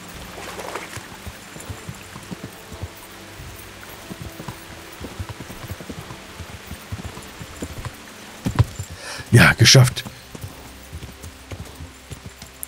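Horse hooves clop at a steady riding pace through the medieval world of the game Kingdom Come: Deliverance, a soft rhythmic patter under light ambience, followed by a brief spoken remark near the end.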